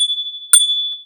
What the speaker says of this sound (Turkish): Zil de bu.